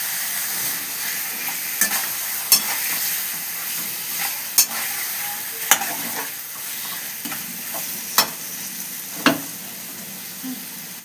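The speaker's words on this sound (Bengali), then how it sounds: "তাই খুব ভালো করে মাংসটাকে এবার কষাবো।" Chicken pieces in a marinade are stirred and sautéed in a pan for chicken curry, a steady close sizzle punctuated by regular scraping knocks of the spoon against the pan.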